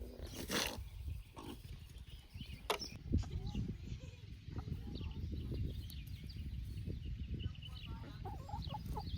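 Chickens cluck and chatter in a busy outdoor farm yard in Kentucky, with scattered sharp clatters and some faint voices mixed in.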